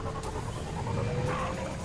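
Dog panting in the video game Mass Effect 2, a steady breathy rhythm running continuously at moderate loudness over a low game background.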